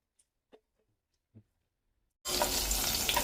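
Crushed garlic and green chillies hit hot oil for a tempering, starting after a couple of faint clicks and quiet kitchen sounds with a sudden, steady sizzle that continues close and loud as they sauté on low flame.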